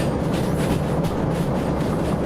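A train running downhill in the Derail Valley game gives a steady rumble and rolling rail noise for a couple of seconds, with faint rhythmic clacking and no voices.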